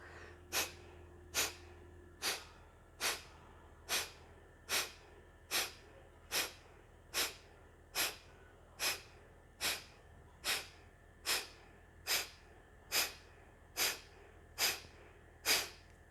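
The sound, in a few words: rounds of yoga breathing exercise, inhaling and exhaling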